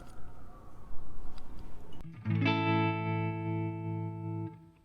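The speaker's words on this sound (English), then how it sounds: "So it's a nice warm tremolo." A Laney LF Super 60 two-by-twelve guitar combo amplifier plays a sustained guitar chord through its warm tremolo effect, ringing out steadily and close, with no talking.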